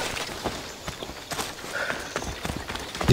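Horse hooves clip-clop at a steady walking rhythm, fairly close, over a faint background ambience, in the video game Assassin's Creed Odyssey.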